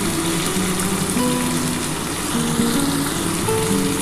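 Crab frying with spices in a pan for a crab curry, a steady, dense sizzle close up that holds evenly throughout with no talk.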